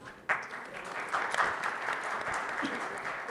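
Applause for a hospital at a panel discussion, a sharp start then sustained, moderately loud clapping from a seated audience with no speech.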